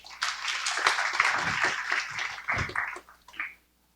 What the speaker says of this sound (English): If we could just give them a little bit of a hand of applause.